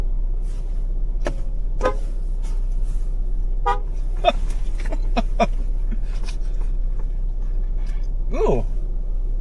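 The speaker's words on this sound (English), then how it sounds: "I'm here for the honks." Several short car horn honks sound at scattered moments, some close and some farther off, over a steady low rumble of traffic.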